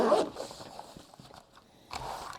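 A hard carrying case for a handheld fog machine is opened, giving a short clack and scrape at the start, quiet handling, then another brief rustling clatter near the end.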